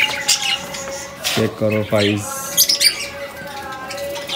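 Pigeons give squawking, chirping calls at close range, with a burst of flapping and scuffling in the middle, under a man's speech in Hindi as he shows off newly brought birds.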